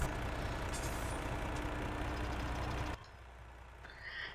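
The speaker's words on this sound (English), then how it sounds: "Oh, we've got to start the engine on that one" A truck engine in Farming Simulator 17 starts up, a dense rumbling roar that cuts off abruptly, followed by a quieter low idle with a faint rising tone near the end.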